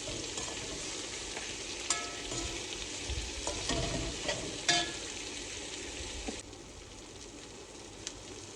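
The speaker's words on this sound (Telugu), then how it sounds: "కొంచెం అంత ఉప్పు వేసి ఆ ఉల్లిపాయలని చక్కగా ఫ్రై చేయండి" Finely chopped onions with a pinch of salt sizzle steadily in a hot pan, with a few sharp scraping clicks from stirring partway through; close, loud, no voices.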